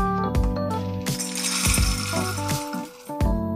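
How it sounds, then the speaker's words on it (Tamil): A kitchen mixer grinder whirs and rattles as it powders roasted peanuts, running loudly in short pulses with brief stops and restarts. "இப்போ இதை நம்ம மிக்சியில் கொட்டி பவுட்ரு ஆக்கிப்போம்"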